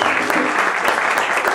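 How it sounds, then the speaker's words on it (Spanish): An audience at a salsa orchestra recital gives strong, sustained applause honouring the timbal player, a dense continuous clapping. "un fuerte aplauso"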